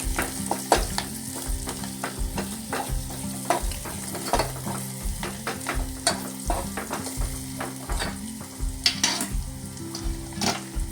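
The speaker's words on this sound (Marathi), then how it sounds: "परत मिक्स, त्याला परतून घ्यायचं व्यवस्थित." Cumin seeds sizzling and frying in a pan while being stirred repeatedly, a steady crackle under rhythmic scraping strokes of the spoon against the metal, close and fairly loud throughout.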